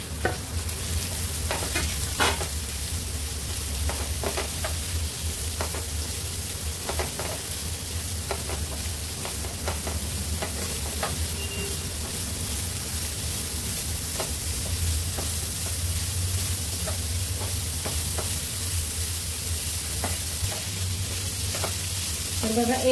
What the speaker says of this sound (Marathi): 1-2 मिनिटासाठी ते फ्राय करून घ्यायचं आहे